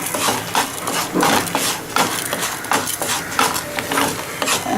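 Urad dal dry roasting in a pan, the lentils rattling and scraping as a spoon stirs them in a steady, close, busy rhythm with no talk.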